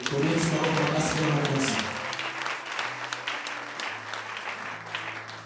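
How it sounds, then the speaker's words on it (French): Applause from a church congregation, dense and loud at first, then thinning out and fading as a voice or sustained tones carry on underneath. "Applaudissons très fort."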